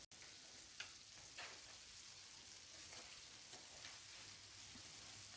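Balls of Ghanaian puff puff dough frying in hot oil give off a steady, close sizzle, dotted with occasional sharp pops and a few soft clinks of turning.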